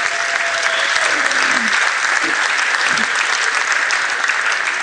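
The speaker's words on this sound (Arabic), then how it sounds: "تصفيقة بربي، تصفيقة حلوة عليها." An audience applauding musicians, with dense sustained clapping from a large crowd at steady loudness for the whole stretch.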